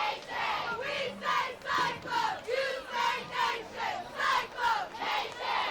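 A football crowd and cheerleaders at a Westmoreland vs EVHS Cyclones game chant in call-and-response. Loud, regular shouted bursts come about every half second, each echoing across the stands.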